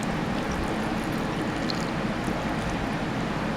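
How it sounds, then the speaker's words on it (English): Fresh boiling water is poured into canning jars packed with Yukon Gold potatoes, a steady, loud, unbroken rush of liquid with no talking. "now you add your boiling water, your fresh boiling water."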